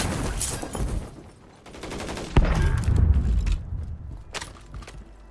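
Rapid SMG gunfire in the Call of Duty Warzone battle royale game, coming in short automatic bursts with a heavier boom midway, loud and close, with no voices.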